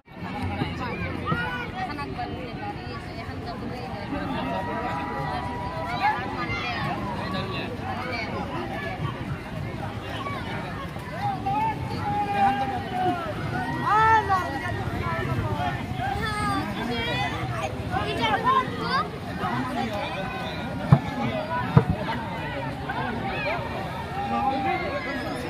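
A crowd watches a village boat race in the Hajo area of Assam during rain, a constant murmur of chatter and distant shouting with a few sharper cries rising from the babble, while a nearby voice talks over it.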